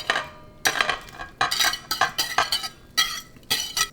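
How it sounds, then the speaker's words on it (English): Sausage frittata ingredients with mozzarella mixed in a bowl, loud close clinking and scraping of a utensil in rhythmic bursts, several quick strokes with short pauses between. "now we put all the rest inside and we mix all together"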